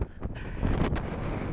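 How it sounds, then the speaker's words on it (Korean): Strong wind gusts buffet the microphone on a steep, misty volcanic hill (oreum) on Jeju, a dense rushing roar that swells midway through. "바람 소리 들리시나요?"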